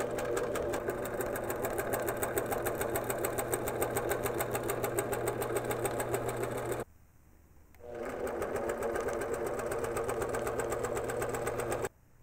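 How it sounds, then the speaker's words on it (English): A longarm quilting sewing machine stitching long basting lines: a loud, steady, rapid mechanical whir with a rhythmic needle chatter, dropping out for about a second, then resuming and running until it cuts off just before the end. "Tap the sewing motor's go button and move that machine, which will allow you to get longer stitches."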